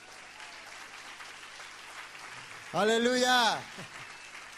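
Church congregation applauding, soft and distant under steady room noise, before a voice rings out in a loud, drawn-out exclamation near the end.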